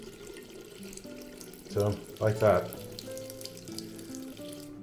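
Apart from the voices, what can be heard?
hot water running from a bathroom tap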